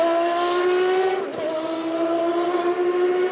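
A Peugeot 905 Le Mans endurance race car drives past with a loud, steady, high-pitched engine whine. The engine note dips briefly midway, as if shifting gear, then returns to a sustained roar with no talk.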